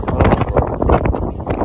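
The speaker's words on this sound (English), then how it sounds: "Yo, it's actually windy" Strong storm wind buffets the microphone in loud, gusty bursts, rushing and roaring without pause.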